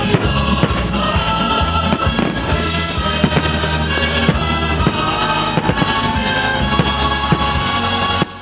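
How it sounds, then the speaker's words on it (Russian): A large fireworks salute closes a grand city celebration in Zarinsk with loud, dense, continuous bursts and crackling from start to finish, with no voices. "Завершился грандиозный праздник не менее грандиозным салютом."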